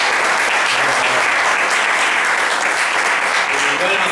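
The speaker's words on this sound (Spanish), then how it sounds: "un aplauso para Carlos" Dense, loud applause fills the room for Carlos at a workers' meeting at the Casa de los Trabajadores in Córdoba, steady and unbroken throughout.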